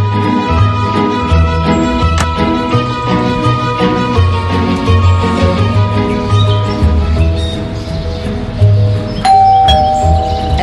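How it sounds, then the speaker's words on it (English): Doorbell in the video game Scary Teacher 3D rings in repeated ding-dong chimes over a busy bed of game music and effects, loud and close, with no talk. "There goes that stupid bell again."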